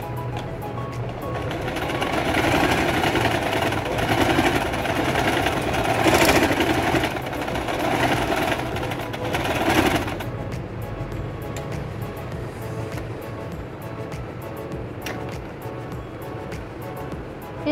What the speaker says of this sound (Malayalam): നമുക്ക് ഇനി തയ്ച്ചു തുടങ്ങാം.